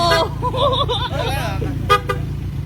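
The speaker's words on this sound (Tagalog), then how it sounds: "Siyempre may busina." A short car horn toots a couple of times in quick succession while people talk over a low idling engine.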